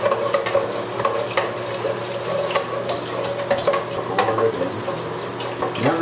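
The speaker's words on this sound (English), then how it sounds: "Now we use our Kodak thermometer to stir it in." Film developing chemicals stirred with a Kodak thermometer while a tap runs, giving a steady wash of flowing water with light ticking and clinking strokes close by and no speech.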